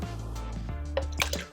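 Soy sauce is poured into a measured sauce mixture with water, giving a brief, quiet liquid trickle and a few soft drips.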